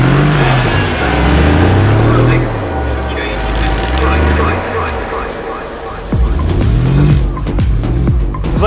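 German-engined car revving hard up a hill in an uphill drag race, engine pitch climbing and falling through gear changes with tire noise, loud and close, with voices talking over it.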